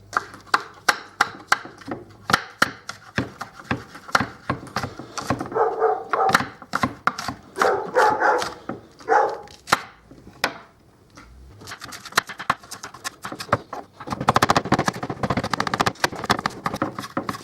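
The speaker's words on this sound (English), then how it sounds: "And now some spring onion. Okay, so we'll just cut this up as well." Spring onion chopped on a board for chicken wonton filling, heard as a quick run of sharp, close knife knocks in an uneven rhythm, with denser bursts of cutting near the end and no talk.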